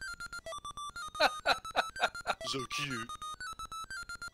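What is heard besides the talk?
alarm melody from a Game & Watch game in MAME emulation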